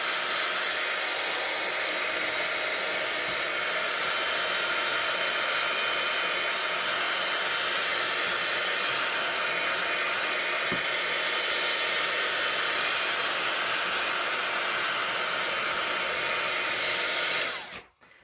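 A hair dryer blows a steady, loud, close whoosh over a wet printed digital image for about seventeen seconds before switching off abruptly, with no talking.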